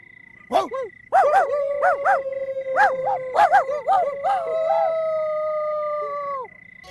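A dog's howl imitated by a human voice in a rural Pakistani drama scene: a run of wavering, rising-and-falling yowls and yelps, close and fairly loud, ending in one long sustained tone.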